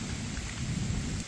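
Heavy monsoon rain pours down steadily in a village, a dense, loud, continuous hiss and rumble without pause.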